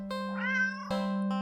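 A black cat meows in the horror game Do NOT Take This Cat Home, giving one long, clear, close meow with a rising and falling pitch, then a brief second call over a steady, even game drone.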